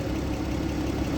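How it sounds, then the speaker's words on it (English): A 2012 Porsche 987 idles with a steady, low rumbling hum, close and continuous with no change in pitch, and no talking over it. "You can hear the engine again."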